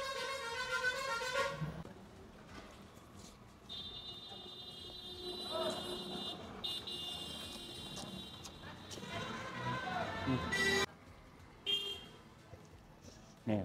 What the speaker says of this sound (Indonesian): Kalah sama klakson suaranya.